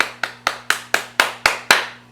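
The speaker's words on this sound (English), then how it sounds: "We can clap it up now." Eight sharp, evenly spaced claps ring out at a brisk steady beat, loud and close, each with a short bright decay over a faint low hum, with no talking.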